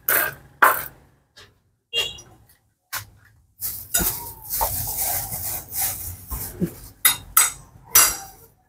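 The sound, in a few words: hacking wood with a bolo instead of a cutter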